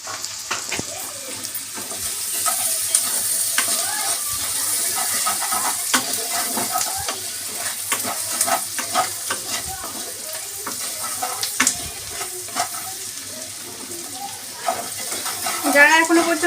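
Onions with a little salt fry in hot oil until golden, a steady close sizzle with stirring scrapes, while running water and a talking voice come and go over it.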